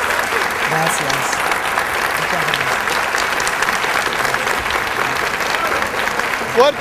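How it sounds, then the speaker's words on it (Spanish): Studio audience applause on a Puerto Rican talk show, steady and sustained clapping from a crowd throughout, fairly loud and close, with some voices mixed in. "Fuerte el aplauso para Nancy Álvarez"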